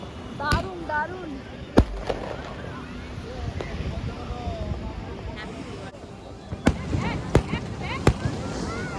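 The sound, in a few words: fireworks on the beach at Puri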